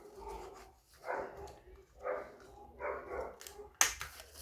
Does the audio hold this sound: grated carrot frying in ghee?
no